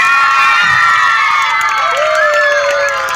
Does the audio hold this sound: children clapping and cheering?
yes